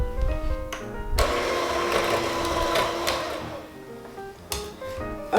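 An electric mixer whirs steadily while creaming butter, sugar and instant pudding mix for fruity cereal cookies, a close motor drone with a few clicks and knocks, with no talking over it.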